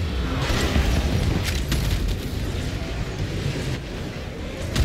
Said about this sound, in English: Heavy ordnance. Fire torpedoes.